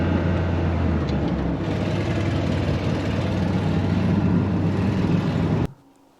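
A Ford F350 truck engine pulls in fourth gear, a loud, steady low rumble close by that drones on for nearly six seconds, then cuts off abruptly near the end.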